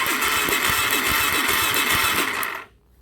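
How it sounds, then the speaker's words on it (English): An electric starter cranks a used $400 marketplace dirtbike engine with a steady, loud, whirring churn for about two and a half seconds, then stops abruptly into near silence. "Alright, so our starter does work."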